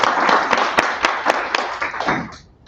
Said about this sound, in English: Applause for everything you do.